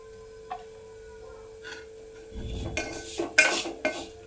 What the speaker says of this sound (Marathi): तुपात असं परतून घेते म्हणजे ब्राऊन चांगले अशा शेवया भाजून घ्यायच्या